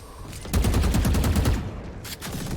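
Gunfire in a Valorant esports match rings out as a rapid, evenly spaced burst of sharp shots, loud and continuous for about two seconds with a brief pause near the end.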